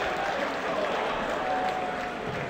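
Steady crowd applause in a darts video game, a dense continuous wash of clapping and cheering that holds level from start to finish at moderate volume.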